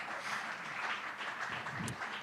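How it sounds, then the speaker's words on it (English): Applause from an audience at a City Nerd Nite talk event, a steady, fairly faint wash of clapping that carries on evenly throughout with no voices over it. "Round of applause"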